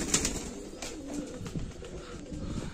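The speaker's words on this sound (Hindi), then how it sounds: "फ्रेंड्स ये टैडी का बच्चा है और ये टैडी निकला है" Young Teddy pigeon chick cooing softly in short repeated murmurs, close by, with a faint chirp early on and no talk over it.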